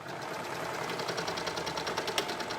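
A sewing machine stitches the inseam of women's pajama shorts, a fast continuous whirring hum with a faint rapid needle rhythm, close and steady throughout, with no talking.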